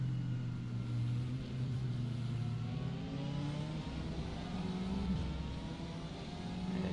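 LMP2 prototype race cars in a sim racing endurance event at Imola give a steady, droning engine roar that swells and fades slightly as they pass, with no voices.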